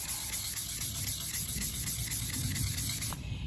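Continuous gritty sanding of a tumbler, a steady rhythmic rubbing scrape close up, stopping abruptly at the end.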